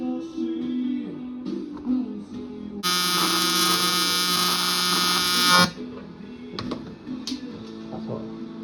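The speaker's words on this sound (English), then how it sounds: "Let's see how it welds." A TIG welder in a home workshop on a first attempt buzzes loudly and steadily for about three seconds, sharply louder than the quieter room sounds and brief voice before and after it.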